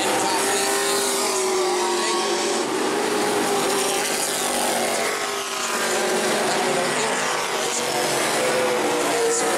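E-Mod race cars racing at New Smyrna, a steady, dense roar of several engines running together that holds throughout without a break, with crowd and track noise mixed in.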